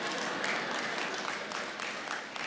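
Audience applause in a large hall during a church celebration service, a steady wash of many hands clapping throughout, fairly distant and diffuse with a few louder swells.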